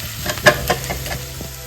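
Onion frying on low heat, stirred in the pan with a soft steady sizzle and a few scraping strokes, close and alone.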